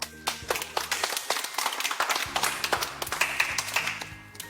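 Players applaud a correct guess during a group game, a quiet patter of uneven, close claps with a few faint background sounds.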